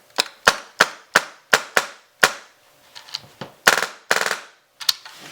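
A Polarstar CGS stock airsoft gun fires in sharp, close, loud shots, first a rapid string of evenly spaced cracks, then a few more irregular bursts and single pops after short pauses.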